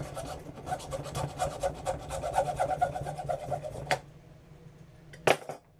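A saw rasps back and forth through a selfie stick rod clamped in an old vise, a steady close scraping rhythm for about four seconds, then a pause and one sharp clank near the end.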